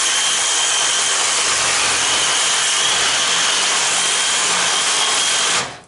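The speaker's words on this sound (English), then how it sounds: "give the sawzall a little twist where the cutting edge of the blade is kind of aimed towards the tin" A Sawzall reciprocating saw cuts steadily through the tin of an AC unit's A-frame copper and aluminum coil, a loud, close, continuous buzzing rasp that holds without pause before cutting off at the end.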